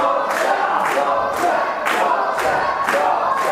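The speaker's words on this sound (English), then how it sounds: "The crowd here at the UKW Arena firmly behind the Yorkshireman though." A large crowd at a UKW Arena wrestling event roars continuously, swelling in rhythmic waves of chanting and cheering roughly every half second, loud and close.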